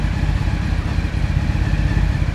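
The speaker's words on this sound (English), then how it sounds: "I started up the CBR." A Honda CBR motorcycle engine runs just after start-up with a steady, loud, low idling rumble and a fast, even pulse throughout the short stretch.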